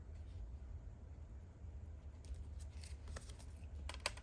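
Scissors snipping through paper during a sewing-themed Tim Holtz pocket folio craft project, a few faint, brief cuts over a low steady background hum.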